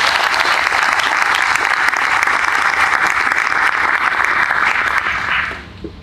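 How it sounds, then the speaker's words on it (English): Audience applause at a military change-of-command ceremony, a steady dense wash of many hands clapping that holds evenly for about five seconds, then thins and fades out near the end. "How about a round of applause for them?"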